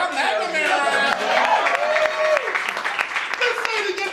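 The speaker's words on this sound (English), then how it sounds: "Make some noise for Sonic!" An improv show audience cheers and applauds, a dense burst of clapping and whoops that carries on under a host's amplified voice.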